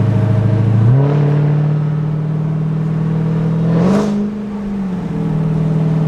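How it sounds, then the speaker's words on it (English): An engine in a heavy sedan revs up strongly from near the start, holds a steady drone, then shifts pitch again, close and loud with no talk. "I cannot believe they put this motor in like a normal sedan"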